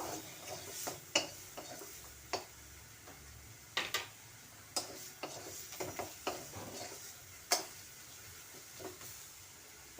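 A spoon stirs and scrapes through cottage cheese in spices in a pan, giving irregular taps and clicks over a faint, quiet sizzle.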